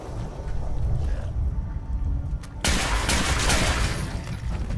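Loud burst of gunfire from weapons in the video game Fallout 4: Far Harbor, a dense, sustained volley erupting midway over a steady rumbling game background, with no speech.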